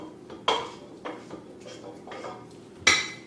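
Browned ground beef is tipped into a crock pot, with a few distinct clinks and scrapes of a utensil against the pot and a soft thud, spaced apart over a quiet background.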